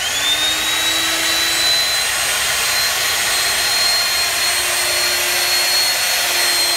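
A Starcon rigid pipe beveler runs with its cutter head cranked down, giving a loud, steady motor whine and hum. A faint tone drifts slightly in pitch, and no voices are heard.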